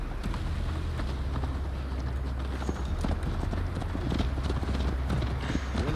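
Horse hooves clip-clopping steadily during a ride in Assassin's Creed Valhalla, a continuous rhythmic trot close by over a low rumbling ambience, with no talk.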